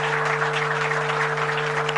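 An audience at the Africa Climate Summit in Nairobi claps warmly after a signing ceremony, a dense, even wash of applause that holds steady and moderately loud throughout, with no speech.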